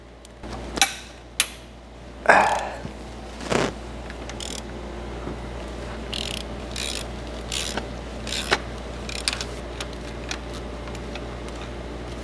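Wrench and ratchet work on a head bolt of a Mercedes C63 AMG M156 V8 engine, with a few sharp clicks and metallic knocks early on, then quieter scattered ticks over a low steady background hum.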